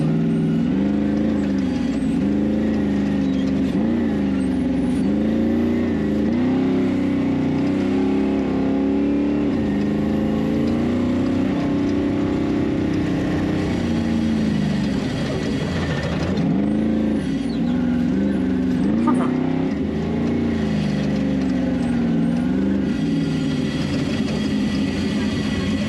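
A rock racing vehicle idles and warms up at a race venue, its engine burbling steadily with repeated blips that rise and fall in a wavering pattern, loud and close for a long stretch, with faint background chatter.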